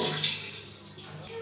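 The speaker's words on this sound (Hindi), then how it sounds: "तो इसको 2-3 मिनट हो गए हैं पानी गिराने को" Tap water pouring steadily onto a hard soap dish in a home: a continuous splashing hiss with faint dripping, close and fairly quiet, alone without voices.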